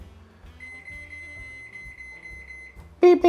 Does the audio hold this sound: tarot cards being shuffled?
no